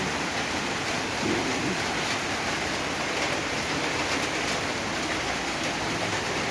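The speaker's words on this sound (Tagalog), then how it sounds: "hindi tayo makalabas dahil umuulan" Steady rain falling during wet weather, a dense even hiss that holds without change throughout and sits close and fairly loud, with no voices.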